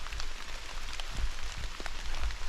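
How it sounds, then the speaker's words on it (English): Steady patter of rain falling in woods, with scattered individual drops tapping surfaces nearby against a soft continuous hiss. "listen to the sound of drops"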